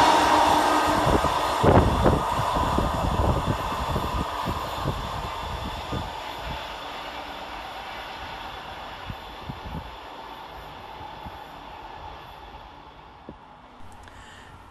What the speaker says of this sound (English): Final fast northbound as 150005 passes, working 2 November 54 from Manchester, Victoria to Clitheroe